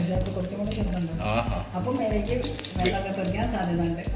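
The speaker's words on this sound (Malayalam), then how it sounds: "കറിവേപ്പില ഇട്ട കുറച്ചും കൂടി ഒച്ച ഉണ്ടാവും" Curry leaves hit hot oil and sizzle loudly, a crackling frying hiss close by, with someone talking over it.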